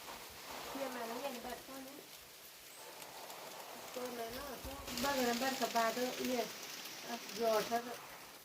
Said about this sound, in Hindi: यहाँ पता लग रहा है बारिश कैसे रही